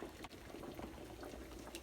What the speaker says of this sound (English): I'm boiling a couple of eggs to add into this soup.